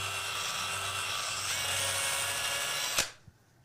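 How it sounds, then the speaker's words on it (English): A small electric drill bit spins inside a foam craft die to hollow out its middle, a steady close whine that runs for about three seconds, then cuts off and spins down to near silence. "what you can do if you have a smaller drill bit is you can just kind of keep working that drill"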